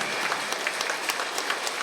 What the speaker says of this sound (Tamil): அந்த உயர்ந்த ஆன்மாவுக்கு பலத்த கைத்தட்டல்